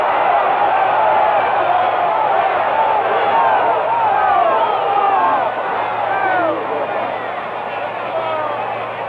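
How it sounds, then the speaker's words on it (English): Dense stadium crowd at the 1962 AFL Championship Game between the Dallas Texans and Houston Oilers yells and roars in a steady, loud wash of many voices throughout, swelling slightly midway before easing a little. "And the crowd yelling,"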